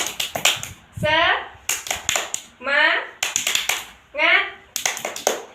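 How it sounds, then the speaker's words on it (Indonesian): Children clap out a rhythmic classroom cheer in bursts of sharp, quick claps, alternating with loud group chanting between each clapping phrase, close and energetic. "Yuk, tepuk semangat."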